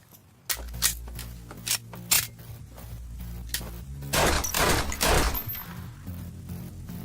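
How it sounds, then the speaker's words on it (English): Sharp shots from a Sig Sauer SP2022 9mm handgun ring out in an anime scene. The reports come singly and in quick pairs, then a denser burst, close and loud. "Fire some rounds."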